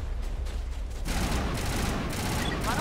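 Dense crossfire from Geth enemies in Mass Effect 1 Legendary Edition, loud rapid gunfire that starts lightly then swells into a sustained, continuous barrage near the player.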